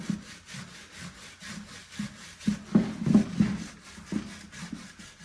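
Polishing an old, dirty stained glass Tiffany style lamp: rhythmic back-and-forth rubbing strokes, close and steady, growing a little louder and heavier midway, with no voices.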